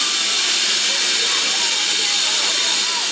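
Loud, continuous hiss of steam escaping from a steam train, broad and rushing, steady throughout with no pauses.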